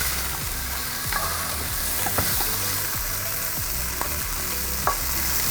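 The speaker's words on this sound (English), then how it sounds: "So now that I've got some fierce sizzling going on and I can see I'm starting to get some colour on the bottom" Chicken and pork fiercely sizzling in a pan during a quick stir-fry, a loud constant hiss of frying with intermittent scraping and clinks from stirring, close up.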